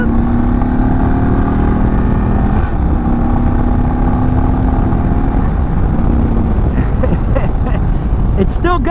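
An Indian Chief motorcycle engine drones and pulls under acceleration while riding, steady with a rising tone toward the end, mixed with wind noise.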